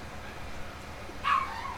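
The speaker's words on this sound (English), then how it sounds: "you might be able to hear my doggy. She's out there barking at her mama" A pet dog outdoors gives a single faint bark or yip, distant and brief, over a low steady background hum.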